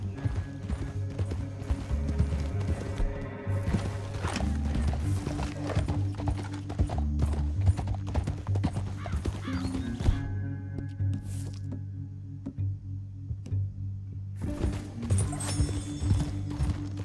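Horses galloping across open country in Red Dead Redemption 2, a continuous run of rhythmic hoofbeats with the occasional whinny, set against sustained tonal sound that rises and falls over the stretch.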